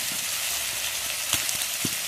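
Spices and fish masala for a spicy black carp kalia fry in a pan with a steady, close hiss and faint crackle, a few soft knocks of stirring breaking through.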